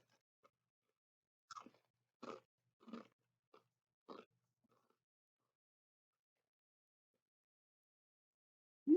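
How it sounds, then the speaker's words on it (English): Crunchy little square snack pieces, similar to a cereal snack mix, get bitten and chewed in about five quiet, separate crunches close to the mouth, with near silence between bites. "Very satisfying crunch."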